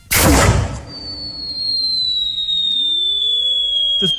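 A loud booming blast followed by a long high whistling tone that slowly falls in pitch, ending in a small crack.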